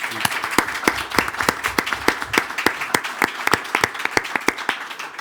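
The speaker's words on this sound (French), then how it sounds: "Applaudissements pour Serge Gouard, maire d'Orléans." Clapping rings out from the audience of a French property programme in Orléans, greeting the city's mayor with a fairly sparse, distinct run of individual claps at a steady pace.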